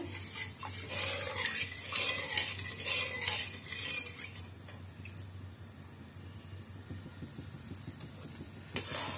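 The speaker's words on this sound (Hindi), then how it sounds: "ये दूध को हम अच्छे से पका लेते हैं इसे गाढ़ा कर लेते हैं चम्मच चलाते ही रहेंगे इसको" A spoon stirs milk being cooked down and thickened in a pan for a raw-coconut barfi, with soft scraping strokes repeated steadily and close by, along with light metallic clinks and a faint low hum.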